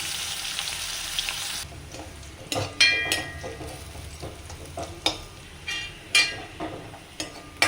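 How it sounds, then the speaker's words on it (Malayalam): Onion, garlic and curry leaves fry in coconut oil with a steady hiss, broken by repeated scraping stirs and light clinks of a utensil against the pan, heard close up without speech. "ഉള്ളി, വെളുത്തുള്ളി, കറിവേപ്പില മൂത്ത് വരുന്നുണ്ട്."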